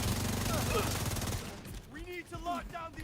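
Multiple turrets firing in a co-op video game, a dense roar of gunfire that cuts off partway through, followed by game sound effects and a player's voice talking.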